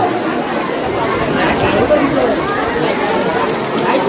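Steady, dense rain hisses and patters throughout at an outdoor wedding, loud and close, with people talking under it.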